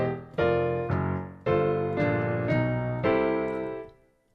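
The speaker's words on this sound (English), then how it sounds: "we can play this the line also in octaves in the left hand" Boogie woogie blues piano playing a turnaround, the left hand doubling the bass line in octaves under right-hand chords; several strong, sustained piano attacks in steady rhythm, close and loud, with no talking.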